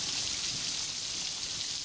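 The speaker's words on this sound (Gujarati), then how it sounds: "સાવરકુંડલા પંથકમાં પણ વરસાદ વરસ્યો છે" Heavy rain pouring in Amreli district, Gujarat, a brief, dense, steady hiss of downpour with no voices.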